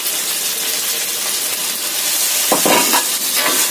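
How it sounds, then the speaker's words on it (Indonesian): Chicken frying in oyster sauce, soy sauce and sweet soy sauce in a pan, a steady loud sizzle with scraping stirring strokes near the end. "Aduk sampai tercampur rata."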